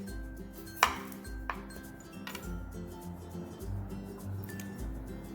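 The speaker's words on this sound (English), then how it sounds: "So I'll cut all of these up" A knife chops potatoes on a board in a home kitchen, with a handful of faint, irregularly spaced taps and clicks, one sharper strike early on, over quiet background hum.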